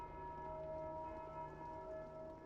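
Bell ringing repeatedly in the video game Dark Souls 2, a steady metallic tolling with sustained ringing tones that layer continuously throughout, fairly loud and alone with no voices.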